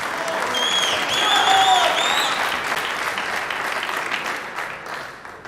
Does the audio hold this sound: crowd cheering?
yes